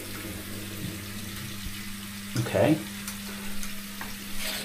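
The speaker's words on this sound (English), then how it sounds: "that's the bath, but I can see that it's low water pressure." Water from a hotel bath tap running at low pressure, a steady faint hiss under room hum, with a brief clatter midway and a short spoken word.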